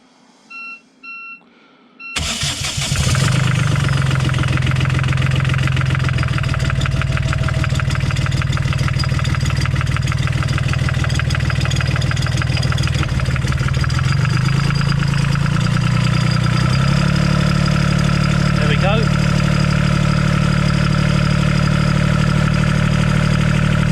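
A Volvo Penta D1/D2 marine diesel engine starts after a few instrument beeps, cranks briefly, then catches and settles into a loud, steady knocking idle. The idle speed steps up slightly partway through.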